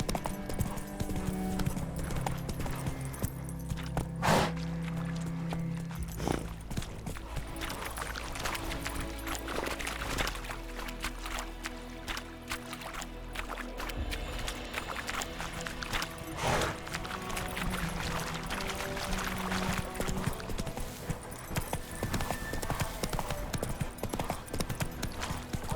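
Roach, the horse in The Witcher 3, trots along with steady clip-clop hoofbeats in a continuous rhythm, joined by saddle and tack rattles and occasional game sounds, with no speech.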